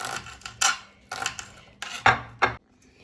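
A knife chops vegetable pieces for soup on a board, several short scraping, rasping cuts in uneven bursts with brief pauses between, close and fairly loud with no talk.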